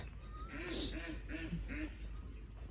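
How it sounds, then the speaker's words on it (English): Several ducks quack in a quick series of four or five calls, fairly close, over a steady outdoor background hum. "Just gonna go check the ducks."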